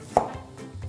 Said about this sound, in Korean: 물이 끓는 동안 저기다 넣을 레몬 좀 썰어줄게요.